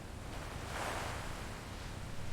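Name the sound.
moving water in leather tannery vat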